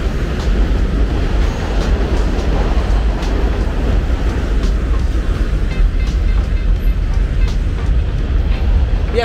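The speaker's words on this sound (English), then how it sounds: "The train a pass. Make the train pass." A train rumbling past on a Bronx street along White Plains Road, Mount Vernon area, a loud continuous low roar with rattling that holds steady throughout, no voices.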